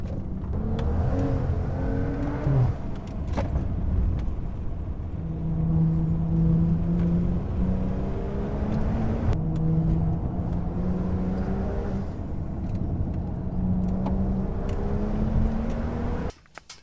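A BMW N55 or B58 engine car revving and accelerating, a steady low drone with rising and falling pitch sweeps through repeated gear pulls, continuous and fairly close with no talk.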